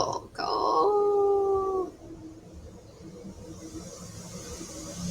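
A dog howls in a long, wavering, tonal cry lasting nearly two seconds, close and fairly loud, then falls quiet against faint background noise; a voice briefly speaks at the start.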